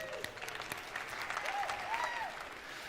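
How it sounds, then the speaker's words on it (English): A conference audience applauds the event organizers Chad and Nicole, a moderate wash of clapping with faint voices and a brief tonal sweep mixed in, fairly distant and soft. "So big round of applause for them, please."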